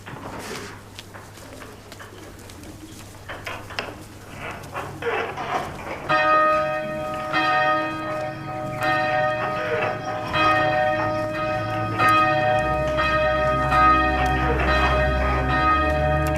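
Church bells peal with sustained ringing tones that build and overlap across the clip, layered over softer pigeons cooing nearby, with the ringing growing louder and richer after the first few seconds.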